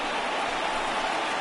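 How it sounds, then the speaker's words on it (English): Rain falls steadily on a baseball stadium in MLB The Show, a soft, even hiss of drops with no breaks, faint and continuous throughout. "with the rain coming down"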